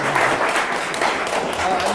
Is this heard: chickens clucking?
no